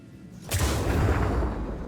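Missile firing in the space game Star Citizen, a sudden loud rushing boom that starts abruptly and sustains as a broad roar for over a second, with no talking.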